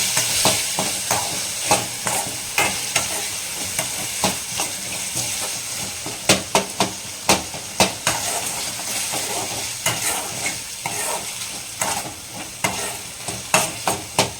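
Potato masala sizzles and fries in a pan while a utensil stirs and scrapes in irregular bursts, close and steady throughout.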